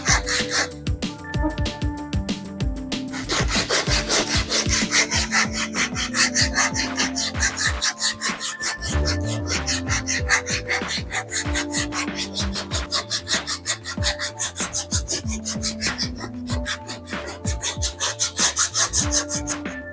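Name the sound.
hand-smoothing akar mimang root wood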